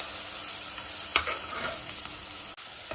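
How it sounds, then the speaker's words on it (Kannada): Green chillies fry in a pan with a soft, even sizzle, broken by a single sharp clack of a utensil against the pan partway through. "5 ಹಸಿಮೆಣಸಿನ್ಕಾಯಿ ಇಟ್ಕೊಂಡಿದ್ನಲ್ಲ ಅದು ಹಾಕ್ಬಿಟ್ಟು ಫ್ರೈ ಮಾಡ್ಕೊಳ್ಳೋಣ."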